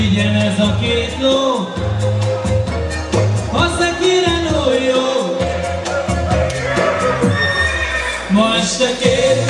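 Horse neighing and whinnying sound effects ring out over a lively Hungarian party band song about two bay horses, loud and repeated across the music with crowd noise underneath.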